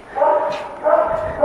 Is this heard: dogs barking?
yes